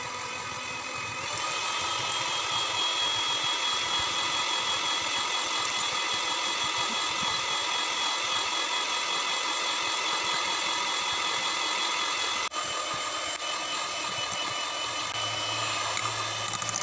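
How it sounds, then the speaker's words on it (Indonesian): An electric mixer beats eggs for a pandan sponge cake, giving a steady, close whirring drone that runs almost unchanged for about seventeen seconds, with a brief dip near the end. "lalu kita mixer dengan kecepatan yang rendah ke kecepatan yang tinggi ya teman-teman"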